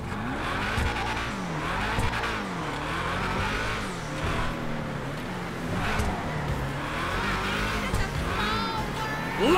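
A classic American muscle car in the video game GTA 5 skids, its engine revving and wavering under brief tire squeals, loud and close, with a voice faintly in the background.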